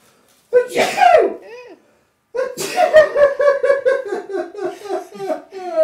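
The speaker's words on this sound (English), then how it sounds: "Uh-oh, I'm going to sneeze." A single sharp sneeze up close, followed after a short pause by a burst of rhythmic laughter.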